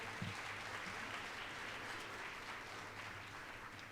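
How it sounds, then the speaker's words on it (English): An evening awards event audience applauds steadily, a dense, even wash of clapping that holds at a moderate, somewhat distant level for the whole stretch without voices. "Let's give yourselves a round of applause for being here tonight"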